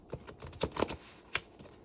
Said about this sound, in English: I'll shuffle them one more time